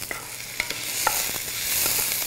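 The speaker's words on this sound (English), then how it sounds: "Let's give our onions a stir." Onions being stirred as they fry in a pan, with a steady sizzle and a few sharp scraping clicks from the spoon against the pan, close and fairly loud, with no talking.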